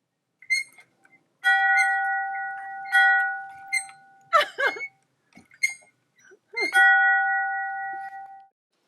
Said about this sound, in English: We just found out that we have also bell.